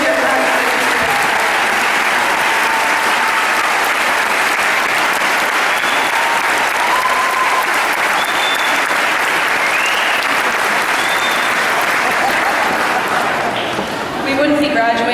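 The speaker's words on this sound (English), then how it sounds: "please give them a round of applause for everything that they've done for us" Sustained, loud applause from a large crowd at a high school graduation ceremony, continuous clapping for about fifteen seconds with a few faint whoops, tapering slightly at the end.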